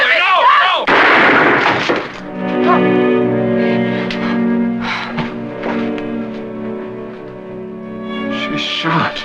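A single loud gunshot in a TV drama bedroom scene rings out near the start, followed by a struggle and a lingering musical tone as voices react.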